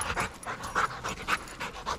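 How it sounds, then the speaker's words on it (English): Rottweiler dogs pant rapidly and steadily close by, a rhythmic run of breathy huffs repeating about every quarter second with no voices. "the other dogs most definitely want to get out and play"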